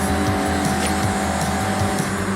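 Mazda MX-5 cornering sideways in a Forza Horizon racing game, engine droning steadily with rising and falling pitch and a faint tire hiss underneath, loud and continuous.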